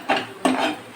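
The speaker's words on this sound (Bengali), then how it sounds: "একটু নড়িয়ে দিলাম গুড়" Spoon scraping and clattering against a pan while stirring a thick rasam bada mixture with sambar masala and salt, two quick close stirring strokes with no voices.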